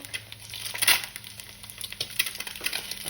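Food cooking in a pan on a gas stove, a soft crackling sizzle with scattered pops and stirring scrapes, faint and close with no talking.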